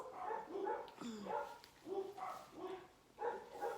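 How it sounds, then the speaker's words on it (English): Several dogs bark in short repeated bursts, somewhat distant and moderately faint, in a rhythmic run of yips and woofs. "can you hear the dogs barking?"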